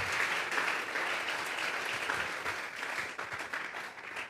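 Church congregation clapping together in steady, dense applause that fills the room at an even level throughout, a sustained offering of hands during worship.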